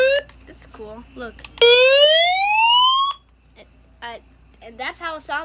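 EoxSmile CR1009 emergency alert radio sounding its SOS alarm: a loud rising electronic siren sweep that climbs for about a second and a half before cutting off, with short beeps and brief talk around it.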